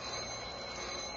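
An old-fashioned twist doorbell rings in a radio drama, a brief steady metallic ring over a hissy, noisy old recording.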